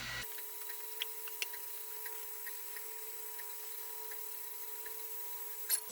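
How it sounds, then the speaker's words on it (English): Cooling fans of an Ortur Laser Master 3 laser engraver winding down after engraving, a faint steady whir with a thin tonal hum and occasional light ticks, no voices. "as you can hear the fans going"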